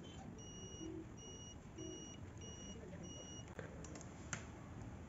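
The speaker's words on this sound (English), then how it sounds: "This is multimeter, and this is in buzzer mode." A multimeter in continuity buzzer mode, testing a salvaged UPS transformer winding, gives short electronic beeps in a steady on-off pattern, four or five tones over a constant background hiss, with a couple of faint clicks near the end.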